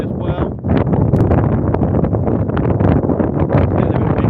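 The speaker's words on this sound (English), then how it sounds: "It's getting a bit windy as well now." Gusty wind buffets an outdoor microphone at Stansted Airport, a loud continuous broadband roar with rushing surges throughout, one day after a storm brought strong crosswinds.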